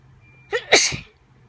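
A single human sneeze, close and clear: a quick sharp inhale followed by one explosive burst, alone against a quiet room.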